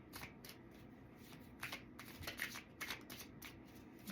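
Tarot cards shuffled and drawn by hand, a steady run of soft riffling flicks and slides with brief brighter snaps, close and fairly quiet, no voices.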